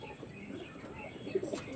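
Andhra pigeons coo softly with low, muffled calls and a faint chirp, brief and close against a light background murmur.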